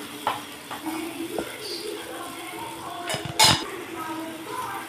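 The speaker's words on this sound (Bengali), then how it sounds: "তো এই যে মা এবার মাছগুলো দিয়ে দিচ্ছে, এটা মনে হয় কাতলা মাছ।" Katla fish pieces going into a home cooking pan, with clinks of pots and utensils, a soft stir and faint sizzle, plus one sharper clatter near the middle, all fairly close and without speech.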